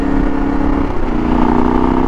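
A Yamaha Tenere 700 motorcycle engine drones steadily in fourth gear while riding, loud and close with wind rush and a slight rise in pitch.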